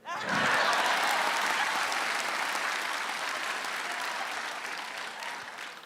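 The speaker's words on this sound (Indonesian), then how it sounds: "Tepuk tangan buat Irfan Kartawirya." Audience at a live stand-up comedy roast breaks into loud, sustained applause that starts abruptly and holds steady, easing off only slightly toward the end, with no voices over it.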